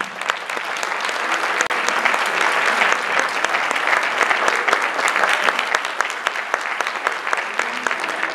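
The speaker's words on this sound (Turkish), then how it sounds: "Alkışlarınızla Mustafa İşsever." A concert audience at the Giresun Musiki Cemiyeti centenary concert claps loudly and steadily, a dense, even wash of applause from many hands lasting the whole stretch.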